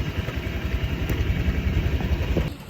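Motorcycle engine idling close by with a rough, steady low putter that continues evenly for a couple of seconds, then drops away slightly at the end.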